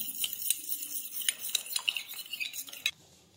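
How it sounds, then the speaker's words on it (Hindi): A spoon stirs cornflour into water, making rapid, close, rhythmic clinks and scrapes against the bowl for a few seconds before stopping abruptly, with no talking. "इसमें 1 से 2 चम्मच पानी डाल के घोल लेंगे और इसे अच्छी तरह घोल लेंगे"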